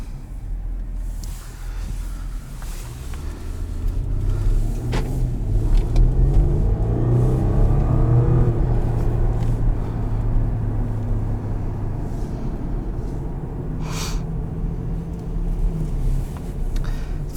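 A 2019 Porsche Cayenne with a three-liter turbocharged six-cylinder engine driving, its low engine rumble swelling as it accelerates, then settling into a steady cruise with road noise, heard from inside the cabin.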